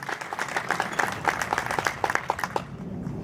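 A small gathering of people claps in response at a community fundraising event, a brisk burst of applause that runs for a few seconds and then stops, fairly close, with a little background talk.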